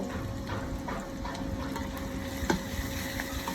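Garlic paste frying with onions in a hot pan, a steady sizzle running throughout with faint stirring scrapes and a small clatter partway through.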